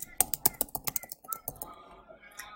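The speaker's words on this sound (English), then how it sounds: "I haven't actually finished typing it yet." Quick bursts of keystrokes on a computer keyboard, irregular and fairly close, tapering off into quieter scattered taps.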